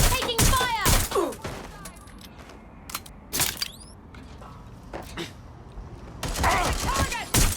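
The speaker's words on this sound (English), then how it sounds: "I'm taking fire!" Gunfire in the video game Watch Dogs Legion, several loud bursts of shots spread across the clip, with a voice speaking between them and a din of game action underneath.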